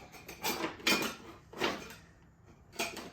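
Kitchen utensils clatter and rattle in several bursts as someone rummages for a straight edge spatula, with brief quiet gaps between the clinks.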